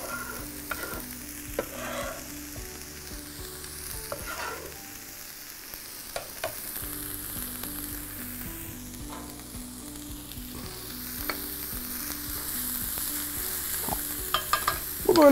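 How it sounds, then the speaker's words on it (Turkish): Chopped onions sizzle and fry in a preheated pan while being stirred, a steady crackle close up with occasional scraping and no talking. "Bak, önceden ısıttığım için hemen cızzız etti."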